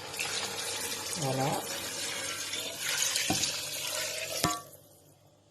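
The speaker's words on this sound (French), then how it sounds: "Je rajoute de l'eau chaude." Hot water is poured into a cooking pot of simmering Kabyle tikourvavine, a continuous splashing stream that stops abruptly near the end, with a voice speaking briefly over it.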